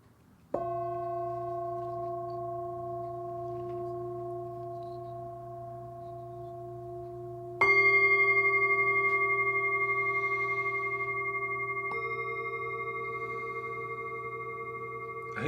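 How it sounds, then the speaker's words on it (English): Ancient Tibetan singing bowls ring with long sustained metallic tones, a first bowl struck and humming steadily, then a second strike layering a brighter pure tone, close and calm with no voices. "these are ancient Tibetan sound bowls"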